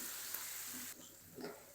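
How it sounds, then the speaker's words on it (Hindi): Steady sizzling of ginger and green chillies frying in hot oil, with a brief stirring scrape partway through; no talking. "मज़ीद 1 मिनट तक और फ्राई करेंगे सारी चीज़ों को।"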